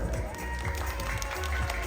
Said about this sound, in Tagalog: Palakpak naman sa ating first qualifier.